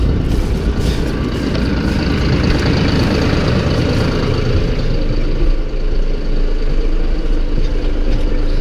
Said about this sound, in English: start the generator up